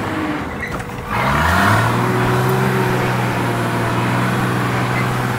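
A 4WD on a steep Glasshouse Mountains track, crawling up a hill and a wall on cold tyres: after a brief quieter moment the engine revs up loudly and holds a strained, steady drone close by, with no talk.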